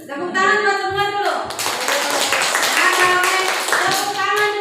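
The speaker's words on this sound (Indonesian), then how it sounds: "Tepuk tangan buat semua dulu." A group of people clap together at a school gathering, a dense burst of hand claps beginning after about a second and continuing steadily, with voices speaking and singing before and around it.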